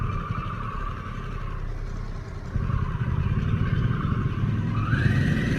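A 2021 Harley-Davidson Pan America motorcycle pulls away in second gear at about 5 mph. The engine note is a close, steady low rumble that lifts slightly as it gets going, then climbs in pitch near the end.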